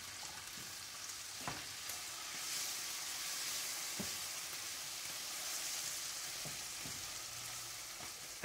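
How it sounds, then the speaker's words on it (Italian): Mushrooms and cream cooking with chicken breast in a pan, a soft steady sizzle with occasional spoon clinks and stirring knocks, quiet and close. "A questo punto aggiungere i funghi e quindi la panna."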